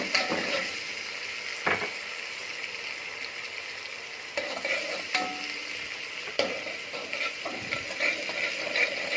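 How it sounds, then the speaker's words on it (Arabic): Garlic frying in a pan while being stirred gives a continuous bright sizzle, with intermittent scraping and clinking of a utensil against the pan. No one speaks. "هنفضل نقلب كده لغاية ما التومة تصفر"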